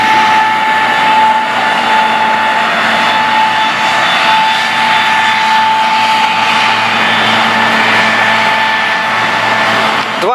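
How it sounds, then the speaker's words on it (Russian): Two tractors work together in a farm field during ploughing and sowing, and their engines give out a loud, steady, continuous drone with a sustained whine and no voices. "Два трактора в поле работают"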